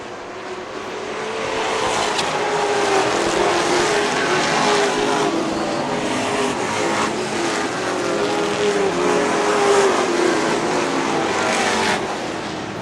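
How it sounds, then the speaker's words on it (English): Late model stock cars racing at Wiscasset Speedway, a dense continuous roar of engines from the pack sweeping past at mid distance, swelling and easing over several seconds. "St. Clair and Colby going at it into turn 1."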